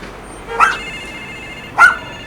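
A dog in Lhasa, Tibet barks twice, two sharp separate barks about a second apart against a steady low background hum.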